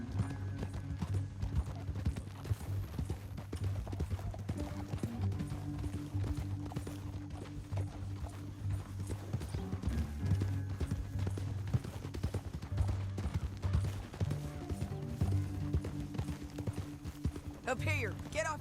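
Several horses gallop over ground in the video game Red Dead Redemption 2, a continuous rapid clip-clop of hooves under a steady low rumble and game music, with occasional distant gunfire and a brief whinny.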